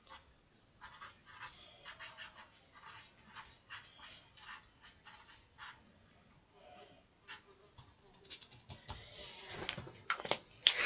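Pen scratching across paper in a quiet room, soft irregular strokes that come in short bursts with brief pauses, faint and close.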